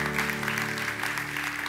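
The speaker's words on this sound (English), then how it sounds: "Let's give them a hand clap." A church congregation claps along briefly after a prayer, a faint, muffled patter of hands sitting under a sustained tonal hum, probably from an organ or keyboard.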